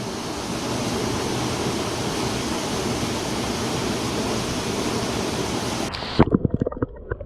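Steady broadband rush of a waterfall on a North Carolina backcountry trout stream, continuous and close for about six seconds before it cuts away to a few quieter knocks.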